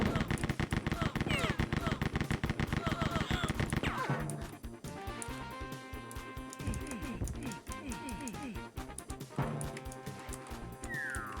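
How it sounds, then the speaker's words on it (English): Rapid bursts of weapon fire from Rise of the Triad: Ludicrous Edition, a loud dense barrage of shots for the first few seconds, then scattered blasts and explosive hits with metallic ringing. "Imagine firing a rocket like this."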